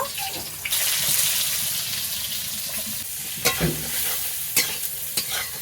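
Loud, steady sizzling of eggplant frying in hot oil, broken by a few sharp clatters of stirring.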